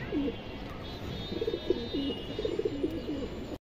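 Silver pigeons coo in a low, rolling murmur through a pen, several soft repeated calls layered close by over steady background noise.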